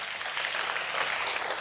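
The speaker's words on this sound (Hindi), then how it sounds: "अब हम ताली बजाएंगे" An audience at an MCD school alumni event claps in a dense, steady burst of applause that holds evenly throughout, moderately loud with no speech.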